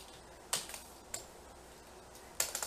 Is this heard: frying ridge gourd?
no